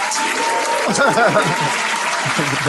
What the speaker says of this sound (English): Oh, simultaneous cheering and wooing